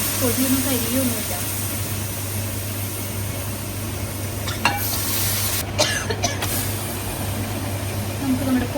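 Pork masala with garam masala sizzling in a pan as water is poured in and it is stirred, a steady frying hiss with a few sharper scraping clinks from the spoon, close up.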